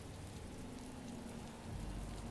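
Steady rain falls on a planet in a Star Wars strategy video game, a dense continuous hiss with a low rumble that grows slightly heavier near the end, with no voices.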